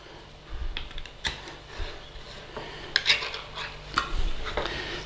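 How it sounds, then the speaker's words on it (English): A can of chopped tomatoes is opened in a home kitchen for marinara sauce, with close metallic scraping, clicks and clanks over steady room noise, no talking. "Open a can of tomatoes."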